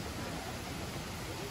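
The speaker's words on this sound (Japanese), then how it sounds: "すごいせせらぎのいい音がするね。" Murmuring stream water in Atami, Japan, a dense continuous broadband rush, close and steady with no distinct splashes.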